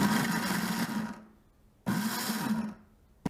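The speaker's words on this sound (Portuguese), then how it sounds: "Eu não vou girar aqui o meu botão como se eu fosse ligar o liquidificador para bater, tá? Eu vou ligar aqui no sentido pulsar." Blender pulsed in short bursts to chop calabresa sausage, two loud whirring runs a little over a second each with a pause between, then a brief final click.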